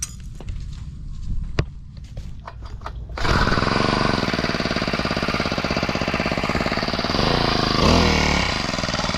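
A grass cutter's small two-stroke engine starts up and runs loud and steady close by, after a few seconds of scattered knocks and quiet outdoor sounds, with a raspy buzzing drone that holds until the end.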